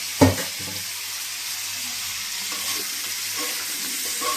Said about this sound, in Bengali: এইবারে দিয়ে দেবো আমার সেদ্ধ করে রাখা এঁচোড়গুলো।